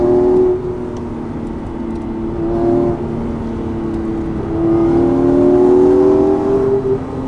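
On a mountain road a lightweight sports car engine drones loudly and nearby, its tone sagging then climbing steadily as the car accelerates, with brief dips between pulls and no talking.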